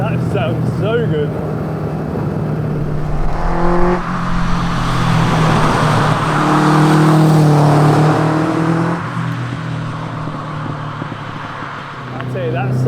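A Kawasaki ZZ-R1200 engine runs on a test drive, a steady droning hum that rises and swells in pitch as it revs, then settles, with a voice faintly over the start.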